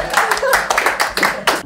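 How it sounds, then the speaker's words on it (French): A French studio audience claps in quick, ragged bursts, the applause coming in short pulses over a couple of seconds while someone speaks over it. "Ah, vous m'avez applaudi."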